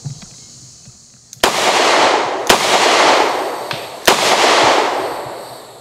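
A Charter Arms Boomer .44 Special five-shot revolver fired at steel plates from about seven yards: three loud, sharp gunshots at uneven intervals, each followed by a long echoing tail outdoors.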